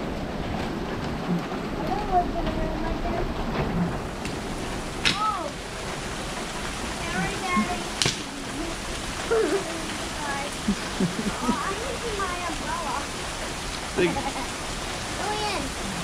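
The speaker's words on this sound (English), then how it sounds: "That's a lot of rain." Heavy rain from an approaching squall line pours down in a steady, dense roar close by, with occasional louder gusts and splashes; people talk over it now and then.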